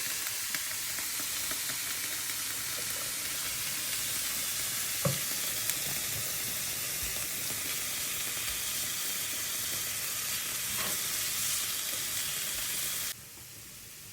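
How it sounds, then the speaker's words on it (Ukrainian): Steady, close sizzling of vegetables frying in oil for borscht, with occasional stirring clatters, continuing evenly for the whole stretch before dropping off at the end. "Так, наша зажарочка жариться."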